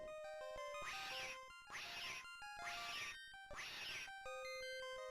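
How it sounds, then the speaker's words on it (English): A synthesized cat meow from the Game Boy Color game Harry Potter and the Chamber of Secrets sounds four times in a steady rhythm as harsh, buzzy bursts, each about a second long, set against bleepy chiptune music. "That's a real cat if I've ever heard one."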